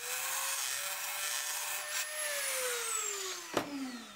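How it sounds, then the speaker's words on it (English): A Dremel tool with a carbide burr grinds to enlarge a hole, its whine gliding down in pitch as the tool slows under load, with a sharp click near the end; the sound is fairly faint. "Using a Dremel tool with the carbide burr, you can easily open the hole up slightly"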